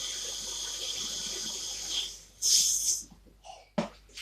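Clean water poured over cocoyam for washing, a short splashing pour near the middle followed by a couple of brief sloshes after a steady background hiss.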